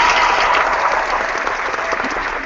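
An audience bursts into brief, dense clapping at a parenting and child-care talk, a steady wash of applause lasting a couple of seconds.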